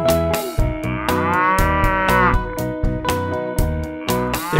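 A cow moos in a long, drawn-out call set within a bouncy children's nursery-rhyme song, with steady music playing underneath.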